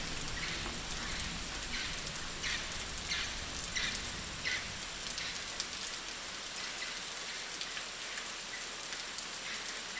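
Heavy rain pours down in the Amazon, a steady dense hiss of drops hitting the ground and foliage, loud and unbroken from start to finish with no voices.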